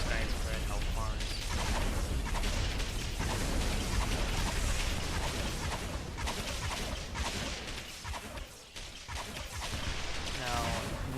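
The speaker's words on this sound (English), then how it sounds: "Now, he's going with his artillery advantage, he's just wiping out this guy's massive amount of units" Artillery barrages boom continuously in the real-time strategy game Grey Goo as one side wipes out a large mass of units, a dense, steady wall of explosions and gunfire with a voice talking over it.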